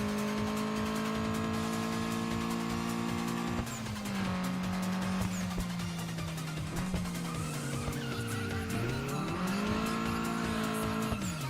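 A race car in the Redline Reverie mountain pass racing game drifts on drift tires. Its engine drones continuously and loud tire squeal rises and falls through long skids, with pitch swooping as the car slides.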